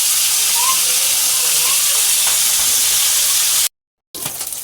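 Alumahan mackerel fries in hot oil, a loud, steady, hissing sizzle that cuts out briefly near the end and then resumes.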